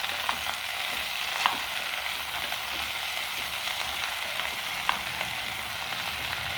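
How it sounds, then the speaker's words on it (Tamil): Cluster beans are stir-fried in oil in a pan, giving an even frying sizzle close by, with occasional sharp clicks of a spoon against the pan as the beans are turned. "இந்த கொத்தவரக்காயை இதில் நம்ம சேர்த்துக்கலாம். இந்த எண்ணெயில் லைட்டாக திரட்டி விடலாம்."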